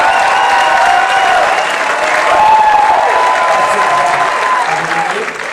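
Steady, dense applause from a roundtable audience on tax policy, with a faint voice carrying over it throughout before the clapping eases off at the end.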